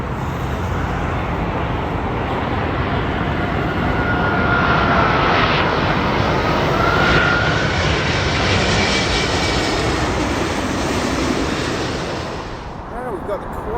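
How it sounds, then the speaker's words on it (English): A British Airways Airbus A380 with four jet engines at Heathrow gives a loud, sustained engine roar, swelling and then easing slightly as the plane passes, with a rising whine near the middle. "It's the morning British Airways Miami flight, which means only one thing: count the engines."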